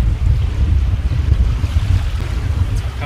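Waves break against a sailing boat on the open sea on the passage from Lamont Reef to Masthead Island, a steady close wash of water and spray under heavy wind noise, with no clear single splash standing out.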